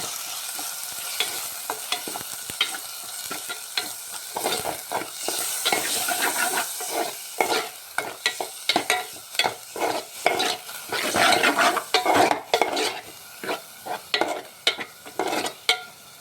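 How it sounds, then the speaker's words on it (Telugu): Spoon stirring masala with curd as it fries for aloo kurma, a steady sizzle broken by frequent scraping strokes against the pan that grow busier and louder toward the end. "దీన్ని బాగా కలుపుకుందాం."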